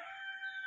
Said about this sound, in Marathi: तिकडं कोंबडा कोकतोय